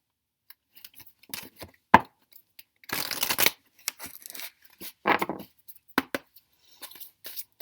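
A deck of True Love Oracle cards is shuffled up close: quick riffling bursts and soft slaps come in irregular clusters, separated by near silence, with no talking.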